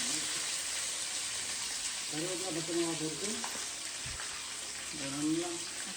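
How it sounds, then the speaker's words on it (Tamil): Curry leaves and green chillies frying in oil for a stingray fish curry, a continuous crackling sizzle close by with a few faint tonal sounds and a soft clatter midway. "கருவேப்பிலை பச்சை மிளகாய் அது நல்லா பொரியணும்"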